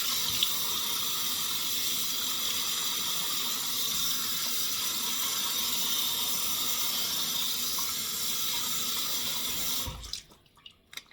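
A bathroom tap runs steadily at close range while face paint is washed off after cosplay, a loud continuous splashing hiss that cuts off abruptly near the end, leaving only faint drips.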